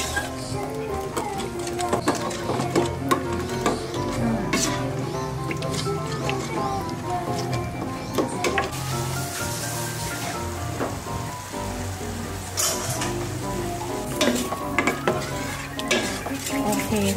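Thai green curry with coconut milk, green curry paste and fish balls simmering in a pot, stirred with constant scraping and clinking of a utensil over bubbling and sizzling, with a voice occasionally heard underneath.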